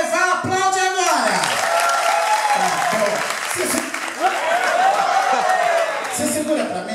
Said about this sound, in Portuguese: Quem acha que eu devo levar, aplaude agora.